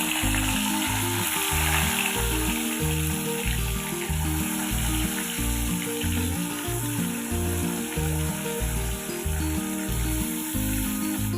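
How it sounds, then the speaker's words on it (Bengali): Katla fish pieces coated in salt and turmeric sizzle and spit in hot oil in a kadai, a loud continuous crackling fry with steady bursts throughout and a low droning hum underneath. "এখন আমি এ থেকে নুন হলুদ মেখে রাখা মাছগুলো আমি ভেজে নেব।"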